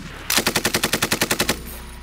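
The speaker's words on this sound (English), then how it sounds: "Suppressive fire is a very powerful tool used both in real-life military strategy" Sustained suppressive machine gun burst in the shooter game Vigor: about a dozen evenly spaced loud shots in quick rhythm, then a short decaying tail, with no voices.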